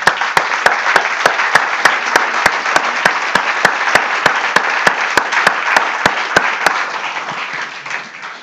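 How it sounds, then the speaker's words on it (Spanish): A church congregation bursts into sustained, loud applause, dense and steady throughout, with some sharp rhythmic clapping standing out before it tapers at the end. "Démosle un aplauso al Señor."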